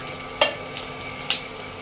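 Onions and peanuts sizzle steadily in a hot pan with a constant frying hiss, broken by two sharp scrapes of a spoon stirring.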